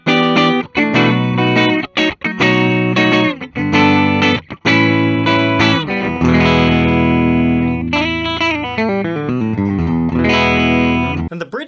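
Epiphone Korina Flying V electric guitar on the middle pickup plays overdriven chords and melodic runs, loud and close with a warm, slightly chorused tone.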